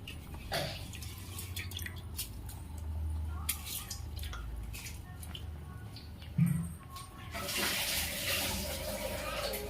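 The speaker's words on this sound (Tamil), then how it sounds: "நல்லா கொதி வர ஸ்டார்ட் ஆகிடுச்சு." Water comes to a boil in a pot with basmati rice, about 1.5 tumblers of rice to 3 tumblers of water, for vegetable biryani: a soft, steady bubbling and dripping in a kitchen.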